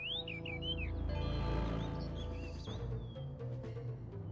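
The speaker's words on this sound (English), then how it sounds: "Bird responds." A bird in Star Fox Adventures gives a few short chirps near the start, then a couple more fainter calls, over a soft game music background.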